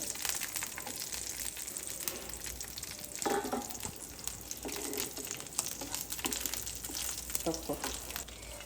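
Bitter gourd, ginger, radhuni and dried chilli fry in a pan with a steady, dense sizzle, broken now and then by light stirring clatter and faint background noises.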